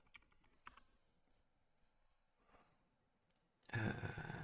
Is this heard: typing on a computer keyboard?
yes